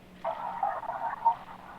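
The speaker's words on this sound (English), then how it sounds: "The frogs are too loud." Frogs croak in the video game Kentucky Route Zero, a faint, continuous buzzing chorus over a low steady hum, with no talk.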